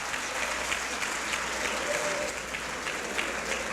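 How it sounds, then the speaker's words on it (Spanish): An audience applauds a teacher, a school director and book author, at a high-school lecture: dense, steady clapping held at an even level throughout. "apláudale al maestro."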